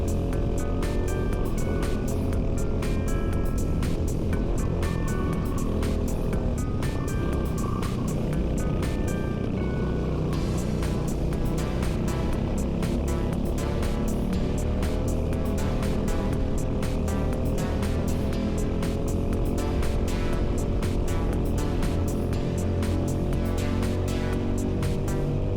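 Racing cars on a track in the Welsh hills, engines droning steadily and loud throughout with rising and falling gear pitch and rapid shifts, as from on board among a pack of cars.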